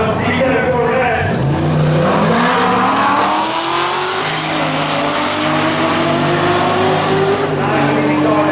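Turbocharged Chevy Silverado and C7 Corvette drag racing at a Street Car Takeover event in Maryland, engines roaring loud and continuous as both vehicles accelerate, rising pitch through the run, with crowd and announcer noise mixed in.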